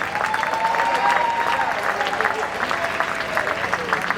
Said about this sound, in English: Cordell Cleare, give her a big round of applause.